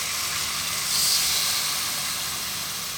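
Coconut milk hitting a hot pan for a tuna fish biryani, making a loud continuous hissing sizzle that swells briefly and then settles, with no talking.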